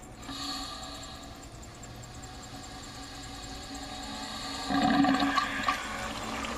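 A swimming pool pump runs steadily while water rushes into an open chlorinator, giving a constant hiss and gurgle that swells louder and splashier toward the end.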